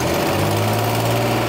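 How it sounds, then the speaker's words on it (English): A DeLorean engine, about 30 years old and recently cleaned of old gas, runs smoothly just off idle with a loud, steady, close mechanical drone and no talking. "this engine is running really nice"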